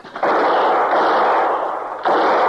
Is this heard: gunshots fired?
yes